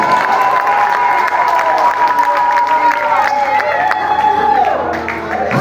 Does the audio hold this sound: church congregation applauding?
yes